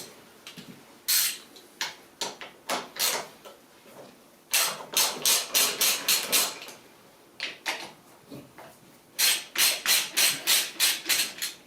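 A ratchet with a 10mm socket clicks in quick bursts of rapid ticks while removing carburetor bolts from a Vulcan VN750. Four or five close, loud runs are separated by short pauses, with no talking.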